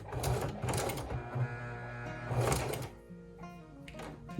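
A sewing machine stitching shirring runs in short bursts, its rapid mechanical needle chatter starting and stopping close by, with a brief pause between runs and no talking.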